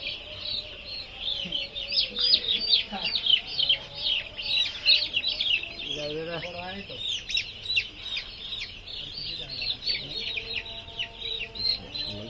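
Four-day-old broiler chicks chirp in a dense, continuous high-pitched chorus, with occasional lower clucks from chickens and a brief human voice partway through.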